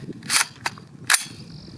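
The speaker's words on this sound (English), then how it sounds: "Let's get to shooting." A PSA KS-47 pistol fires three sharp, cracking gunshots in quick, uneven succession, with short gaps between the reports.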